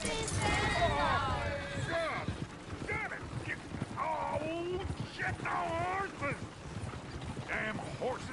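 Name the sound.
horses and coach in Red Dead Redemption 2 video game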